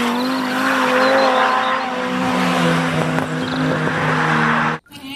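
A toy race car gives off a loud electronic engine sound, a sustained revving whine with steady tones that continues for several seconds before stopping abruptly, with no talking over it.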